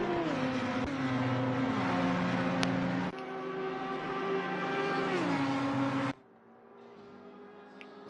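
A lime green BMW race car roars through its gears at Watkins Glen in Assetto Corsa Competizione, loud and close, with rising engine pitch, upshifts and a sudden drop to a quieter engine note near the end.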